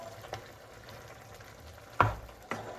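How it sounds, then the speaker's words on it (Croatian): Garlic stirred into squid frying in a pan, giving a quiet, steady sizzle with a few soft scrapes and clacks of the utensil, one sharper knock near the end, no talking. "Češnjak ili bijeli luk. I promiješati."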